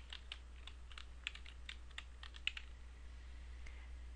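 A search being typed on a computer keyboard: quiet, quick clicks in an irregular run of keystrokes, close and alone.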